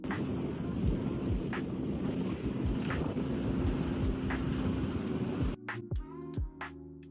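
Wind gusts over open ocean by the coast, recorded from a boat, make a steady broadband rush with periodic swells of wave wash. The noise cuts out abruptly near the end, leaving a few faint water slaps.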